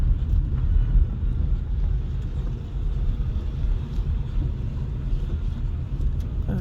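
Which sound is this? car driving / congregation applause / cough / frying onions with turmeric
car driving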